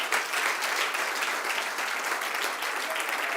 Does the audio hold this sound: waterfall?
no